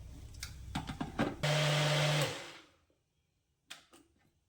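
A mixer grinder whirs loudly for under a second while blending vattayappam batter with sugar, then winds down to silence, with clattering and handling noises before and a brief knock after.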